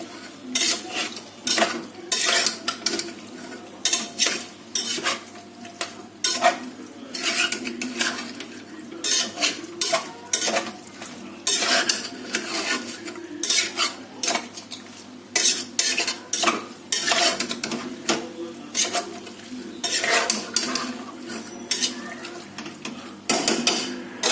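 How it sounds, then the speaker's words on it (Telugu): Chicken curry is stirred in a metal pot, with repeated close scraping and clanking of the spoon against the pot in an uneven rhythm, plus a soft sizzle underneath. "చికెన్ వేసుకున్న తర్వాత మళ్ళీ మొత్తం ఒకసారి ఇట్లా కలుపుకోవాలి"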